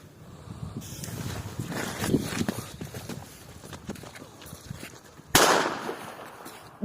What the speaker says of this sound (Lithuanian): Atrodo, viską mes sprogdintume petardus.